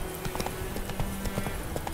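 A horse gallops in The Witcher 3, its hooves beating a quick, steady clip-clop rhythm over a constant background hum, close and fairly loud, with no talking.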